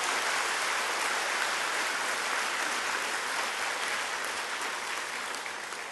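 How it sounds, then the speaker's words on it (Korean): A seated audience at a Buddhist dharma talk applauds, giving a uniform, rain-like hiss of many hands clapping at moderate distance that holds steady and fades slightly at the end. "잘 되라니까 박수 치는 거 봐."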